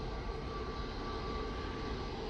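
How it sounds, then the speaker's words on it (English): Corendon airliner landing at Manchester Airport on a windy day, a steady low rumble of engine and wind noise heard from a distance, with no voices. "Great landing there from the Corendon crew"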